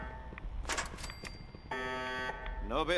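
In the video game Fallout 4, a buzzing electronic alarm drones as a steady tone for about half a second amid game noises, with someone talking over it.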